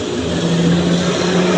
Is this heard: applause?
no